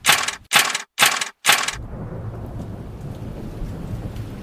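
A thunderstorm with steady rain, opening with four loud, evenly spaced bursts before settling into a continuous wash of rainfall and low rumble, with no voices.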